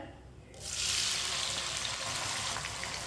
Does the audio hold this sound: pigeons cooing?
no